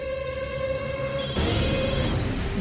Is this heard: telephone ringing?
yes